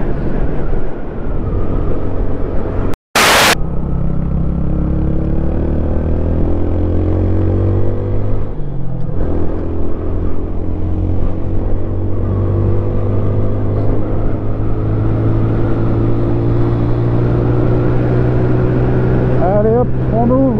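An Orcal single-cylinder motorcycle engine drones loud and close, its pitch rising and falling as the throttle opens, with steady wind rush around it. A rider speaks over it at times.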